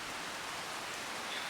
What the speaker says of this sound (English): As you can see, it's raining again.